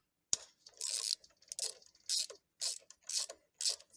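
A hex key ratchets and clicks as bolts are loosened on a TUXING 4500 PSI high-pressure air compressor, with sharp metallic bursts in a quick repeating rhythm, close and isolated, with no voices.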